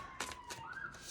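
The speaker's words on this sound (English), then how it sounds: "there's a siren going off" A siren wails outside, its steady tone faint and distant under brief bursts of noise in the room, the pitch sliding upward near the end.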